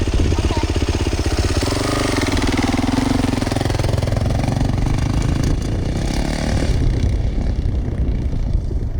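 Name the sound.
Yamaha YZ450F dirt bike engine riding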